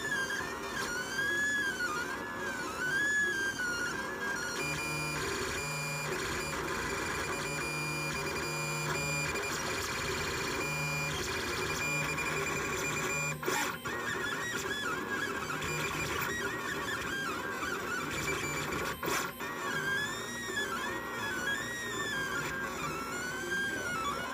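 A LulzBot Mini 3D printer runs a print, its stepper motors whining in rising and falling musical sweeps over a steady mechanical hum, close and continuous for the whole stretch.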